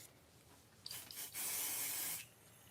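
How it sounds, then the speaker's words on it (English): Pixie spray misted onto a stencil, a couple of short hissing puffs followed by a longer steady spray burst of about a second, close and fairly quiet. "So I just sprayed a little bit with pixie spray."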